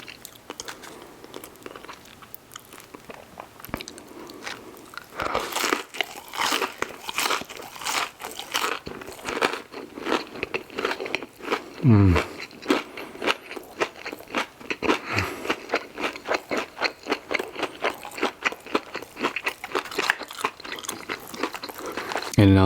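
Crispy garlic parmesan wings being bitten and chewed up close, with repeated loud crunches and wet chewing in an irregular rhythm, no talking.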